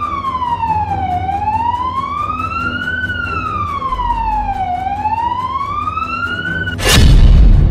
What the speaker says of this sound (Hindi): सायरन की चीखती आवाजों वाले शहर मॉस्को